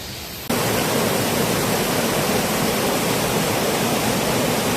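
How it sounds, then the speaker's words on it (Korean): Fast-flowing mountain stream beside a waterfall in Heukseok valley near Seoul, a loud, dense, unbroken roar of rushing water that cuts in abruptly after a brief quieter moment. "흐르는 물 속도가 굉장히 빠르네요"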